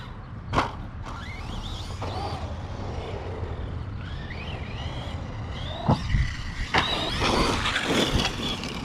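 An Arrma Kraton 4S V2 RC car drives over rough ground, its electric motor whining in rising bursts with a few thumps and rattles, someone talking over it at times.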